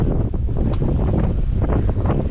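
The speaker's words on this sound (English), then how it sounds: "It's a bit windy." Steady wind buffeting at an open-air motor speedway on a sunny day, a continuous low rumbling roar across the whole moment with no voices.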